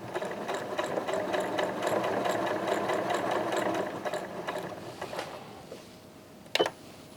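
A sewing machine stitches faux Chanel trim onto a T-shirt neckline in one continuous, steady rapid whir with a fine mechanical rattle, close and fairly loud, slowing and stopping with a sharp clunk near the end.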